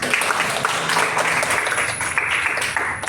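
Classroom of students clapping together in a rhythm game during a school guidance lesson, dense steady hand claps filling the room at close range with faint voices underneath.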